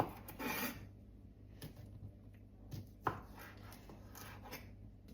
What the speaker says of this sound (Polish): Kiełbaskę pokrój.